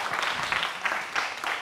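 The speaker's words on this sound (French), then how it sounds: "Les esprits, on applaudit encore très fort, s'il vous plaît." Applause at a live worship event, a brief burst of dense clapping from an audience, heard moderately close and fairly steady.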